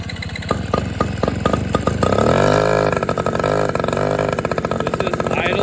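A small 79cc engine idles with rapid, even pulses, then, with the governor lock taken off, revs up into a sustained buzzing whine that holds and wavers, loud and close.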